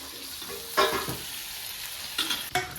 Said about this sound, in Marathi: हा असं तेलात फ्राय करायचं आहे मस्तपैकी